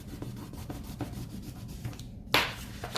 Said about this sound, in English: closing it up and rubbing it again